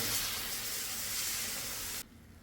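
Milk hits hot roasted semolina (rava) in a pan and sizzles with a loud, steady hiss that cuts off abruptly near the end.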